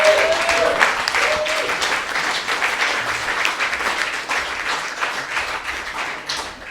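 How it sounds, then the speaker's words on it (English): A round of applause at an album launch evening for a man being thanked, loud and close at first with crisp individual claps, then gradually thinning and softening. "Mr. William McCrum, give him a round of applause"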